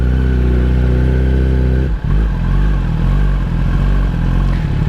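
A 2021 Kawasaki ZX-10 sport bike, stock, pulls hard in first gear with a loud, close engine roar; a brief dip midway gives way to a climbing, rougher rev that keeps going to the end.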